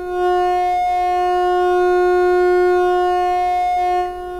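A steady synthesizer drone from a full wave dual rectifier module holds a buzzy, harmonic-rich tone with a low pulsing throb underneath as the bias changes the waveform, sounding alone and fairly loud throughout.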